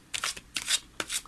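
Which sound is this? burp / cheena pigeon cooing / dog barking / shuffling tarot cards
shuffling tarot cards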